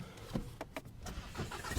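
A worn Volkswagen GTI cranks and catches after its ignition was left on, a short burst of starter whirring and engine firing up close by, with no voices over it.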